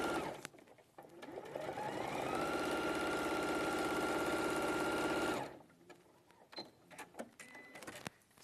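A sewing machine stitches through fabric in a fast, steady whir for about four seconds, then stops, leaving faint clicks and handling noises close by.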